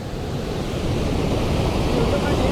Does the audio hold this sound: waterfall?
yes